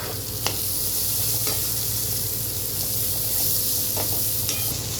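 Chopped onions sizzle in butter with garlic and ginger in a pan, a steady, dense frying hiss broken by a few soft scrapes of stirring, close and continuous with no talking.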